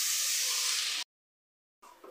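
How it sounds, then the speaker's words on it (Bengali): Leafy greens tossed into a hot pan of oil with green chillies, turmeric and salt, giving a loud, steady, bright hiss for about a second that cuts off abruptly, then a softer sizzle with a faint clink returns. "শাক দিয়ে নাড়াচাড়া হচ্ছে।"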